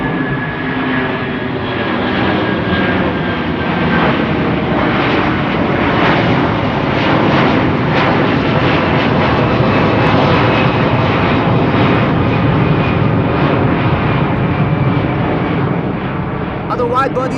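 Wamos Air Airbus A330 widebody jet climbing out after takeoff near Amsterdam Schiphol, a loud, sustained engine roar with a thin whining tone on top, staying steady and close for the whole stretch.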